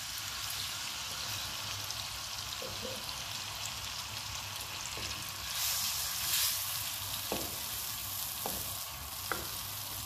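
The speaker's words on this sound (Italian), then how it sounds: "E ora aggiungiamo il succo di limone." Lemon juice hitting a pan of hot oil and butter, giving a steady, close frying sizzle with a brief louder surge partway through and a few small pops.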